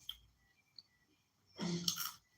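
A single short sneeze, quiet and close, following a few faint clicks in near silence.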